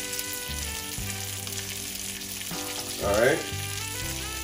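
Salmon with sliced onions frying in a hot pan, a steady close sizzle running throughout with a brief louder burst near the end and a short spoken remark at the start.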